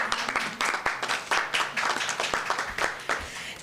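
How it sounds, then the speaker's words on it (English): A small group claps at a city hall update, a thin, uneven patter of hands with distinct individual claps, fairly close and without voices. "You can clap for her."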